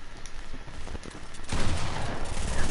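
Rapid gunfire bursts from a one-on-one video game match, growing louder and denser partway through and continuing as a steady barrage with no talking.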